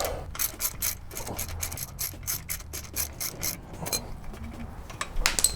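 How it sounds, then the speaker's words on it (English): A wrench clicks and grinds while loosening a 14 mm nut on the back wheel of a Vulcan 750 motorcycle, irregular close ratcheting bursts with metallic scraping, a few faint knocks, louder at the end. "My first step is I actually need to loosen this nut completely."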